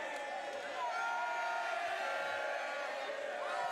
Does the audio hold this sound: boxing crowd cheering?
yes